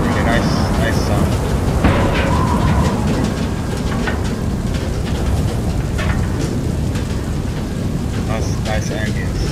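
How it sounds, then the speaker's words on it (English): Steady heavy rainfall in the Far: Lone Sails game, a dense continuous wash with faint low rumbles, close and loud throughout with no voices over it. "the rain."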